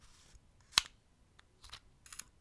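The shutter of a DXO One camera pops down with a sharp, close mechanical click, followed by a few fainter clicks and rustles in a quiet room.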